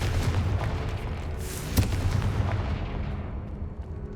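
Confringo blasting spell in the Hogwarts Legacy video game, a heavy booming explosion with a sharp crack near the middle, loud over a rumbling game soundscape that fades out at the end.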